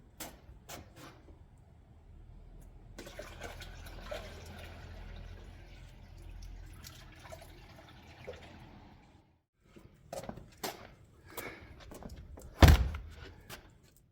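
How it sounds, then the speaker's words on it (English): Water runs into the tub of a DIY gold miller table, a continuous rushing flow for about six seconds, surrounded by quiet thunks, knocks and clatter, with one sharp bump near the end. "So I filled it with water"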